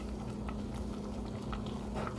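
A pot of boiling water with couscous gives soft, close bubbling and scattered small pops over a low steady hum, fairly quiet, with no talking.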